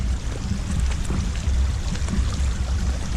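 A river's current rushes and gurgles in a constant, close wash of water noise, even in level from start to finish with no voices over it.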